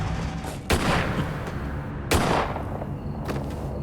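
A gunshot in a dramatized true-crime reenactment of an execution-style killing, heard as two sharp broadband blasts about a second and a half apart, then a fainter third crack, over a dark, rumbling background.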